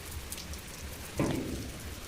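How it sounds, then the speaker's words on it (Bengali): Heavy rain falls on a rooftop as a dense, steady patter, with a louder burst of drops hitting a surface midway; no voices. "মনে হচ্ছে খুব বৃষ্টি পড়ছে দেখতে পাচ্ছি না"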